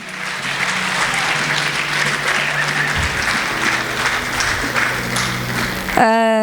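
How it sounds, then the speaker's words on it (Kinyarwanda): A church congregation applauds loudly and steadily, a dense wash of many hands clapping for several seconds, with a voice and music briefly breaking in at the end. "Tumukomere amashyi umukozi w'Imana"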